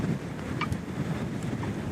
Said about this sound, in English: the wild ocean, whipped up by the wind